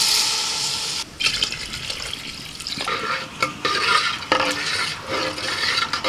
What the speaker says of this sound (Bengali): 3-4 মিনিট নাড়াচাড়া করে নিয়ে এবার আমি জল দিয়ে দিচ্ছি।